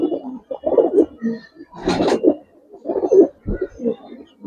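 Gribaz coloring pigeons in a loft coo close by in repeated soft, throaty phrases with short gaps, several calls overlapping at times.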